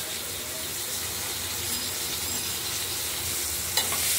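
Tomato added to fried potatoes in a pan for a fish curry, a steady soft sizzle with gentle stirring and a sharp clink near the end.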